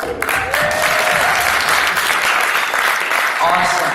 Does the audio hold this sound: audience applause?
yes